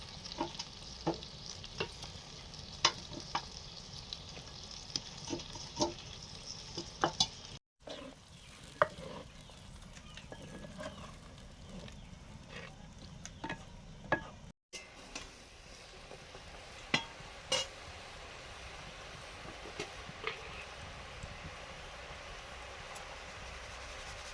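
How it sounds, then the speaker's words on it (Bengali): Prawns and fish go into a boiling curry in a clay pot, with a quiet, continuous simmer, faint bubbling and occasional light clinks and taps over about twenty seconds. "ঝোল ফুটে গেছে, এবার মাছগুলো দিয়ে দিচ্ছি, চিংড়ি মাছগুলো।"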